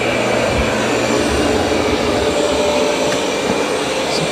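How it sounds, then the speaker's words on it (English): A Roborock S8-series robot vacuum runs over carpet, giving a loud, steady whirring hum with an even broadband rush throughout and no voices. "It's going to vacuum the carpet."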